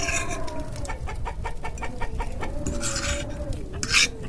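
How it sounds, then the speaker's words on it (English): Chickens kept indoors in a settler's cabin during a Minnesota winter cluck steadily, with a rhythm of short repeated calls and a louder squawk near the end, close by. "What's that noise? Oh, right, there's chickens in here."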